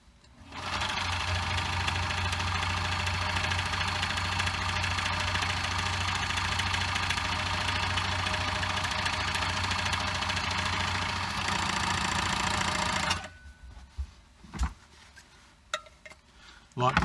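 A sewing machine runs steadily, stitching a lined Viking hood, a loud close whirring hum lasting about thirteen seconds before it stops, followed by a few soft handling knocks.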